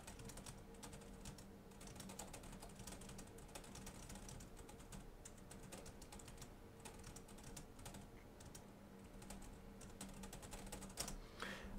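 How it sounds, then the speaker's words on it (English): Rapid, steady clicking of keys on a Thomson NEOX 15.6-inch budget laptop being typed on up close, a continuous patter of keystrokes with no voices. "When you're actually typing, it's not too bad."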